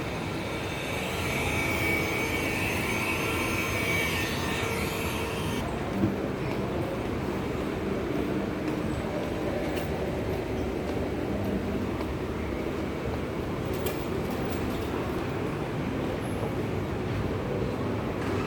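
A Hong Kong subway train in Kowloon rumbles with a steady, low roar that continues throughout, loud and enveloping, with a faint high hiss early on.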